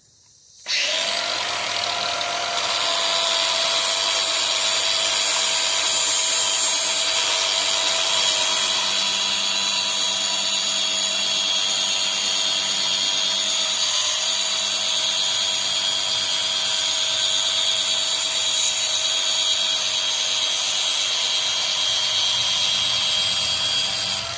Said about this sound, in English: Fire up the old grinder here.